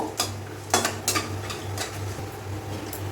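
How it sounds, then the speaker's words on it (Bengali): Cashews fry in a pan with cardamom and a bay leaf for carrot halwa, a spoon scraping and clinking in several distinct stirs over a soft, steady sizzle. "একটু ভাজা ভাজা করে নেব"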